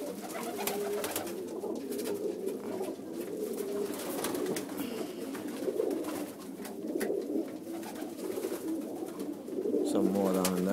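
Pigeons coo steadily inside a coop holding flight breeds such as red Danes and Chinese owls, with overlapping soft calls and wing and shuffling noise throughout.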